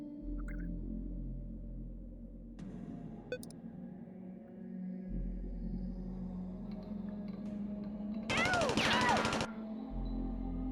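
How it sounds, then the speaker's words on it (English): A rapid burst of Uzi fire in the video game Worms Armageddon, lasting about a second, stands out loudly above a steady low game hum and scattered effects. "Do each of those bullets do damage separately for the Uzi?"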